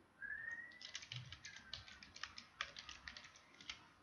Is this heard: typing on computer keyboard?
yes